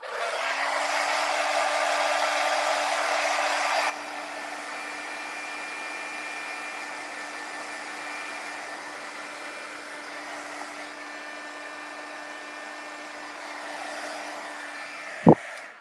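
A heat tool or hair dryer blows steadily over a gessoed mixed media art journal page, a loud, constant whir that drops to a lower, quieter hum partway through and ends with a sharp click.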